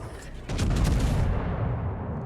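Main battery guns of a warship firing in a naval combat video game, a sudden loud booming blast at half a second that rolls into a sustained, rumbling low roar before slowly fading.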